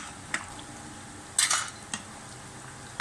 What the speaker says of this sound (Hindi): अब हम इसमें जो है डालेंगे, ये हमने जो सारे फ्राई करके रखे थे सब्जियां।